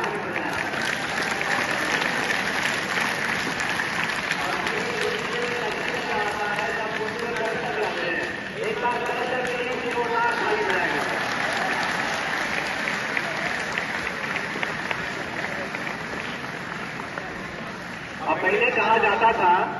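Loud applause from school children at a prize ceremony, a dense wash of clapping under a voice addressing the crowd, swelling again near the end.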